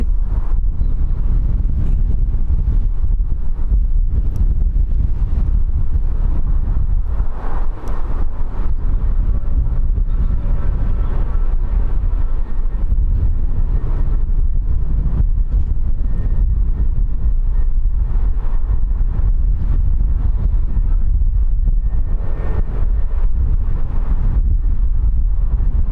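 Strong wind buffets the microphone at a plane-spotting viewpoint at Birmingham Airport, giving a constant loud rumbling roar with gusty swells throughout, close and unbroken, with no voices.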